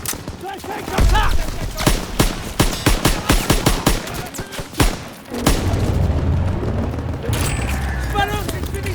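Call of Duty WWII battle: a grenade bursts in a deep boom amid rapid bursts of gunfire, with soldiers shouting over the fighting and a rumbling wash of combat after the blast.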